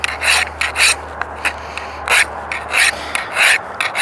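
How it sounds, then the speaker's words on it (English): A coarse bastard file rasps across a steel knife blade in bursts of rhythmic forward strokes, each scrape loud and close with short quiet gaps between, under a low steady hum. "So with the bastard file, you just take the knife, put it down like this,"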